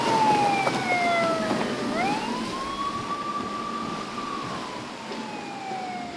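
A Coast Guard boat's wailing siren rises and falls in long sweeping tones as it races along the Point Pleasant Canal, fairly close and loud, with a steady rumble of motor and wind underneath.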